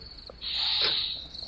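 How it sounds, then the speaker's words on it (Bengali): A steady, high-pitched cricket trill drones through the night, swelling louder in the middle and then easing back, with no other sound beside it. "নিচ থেকে হালকা ঝিঝির ডাক ভেসে আসছে"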